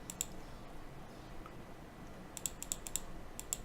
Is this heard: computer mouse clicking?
yes